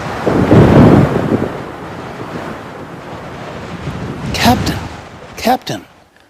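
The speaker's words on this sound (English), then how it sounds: "It was a dark and stormy night." A thunderstorm sound effect: a deep rolling thunder rumble at the start, then steady rain and wind noise, ending in a few sharp cracks and bursts.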